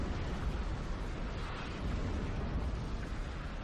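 A lightning bolt and a heavy laser cannon fire in the strategy game Ashes of the Singularity, making a dense, continuous roar of rumbling blasts that stays loud and unbroken throughout.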